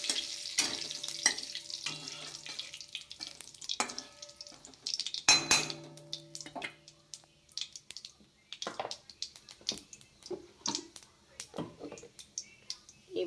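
Bay leaves and cumin seeds tempered in hot oil in a pan, crackling and sizzling up close with a sharp burst of spattering midway, joined by utensil scrapes and clinks against the pot.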